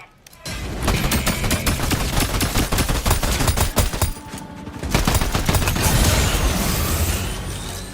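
Shotgun blasts and rapid gunfire ring out in a video game as a dense, loud barrage of sharp reports, with a brief pause partway through before the firing resumes heavily.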